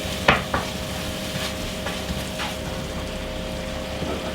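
Curry paste with a little salt frying in a pan, giving a steady close sizzle with a couple of sharper clinks of stirring near the start.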